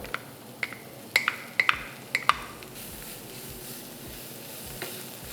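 Boiled, mashed potato filling for aloo bonda is mixed in a pan with turmeric, with soft squishy stirring and a few sharp spoon clicks against the pan early on. A quiet background sizzle continues underneath.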